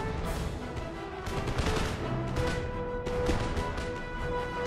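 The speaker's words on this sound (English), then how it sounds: "They're all still shooting at the 3rd foot guards." In a battle in Empire: Total War, massed musket volleys crackle continuously as a dense stream of overlapping shots under game background music, with no voices.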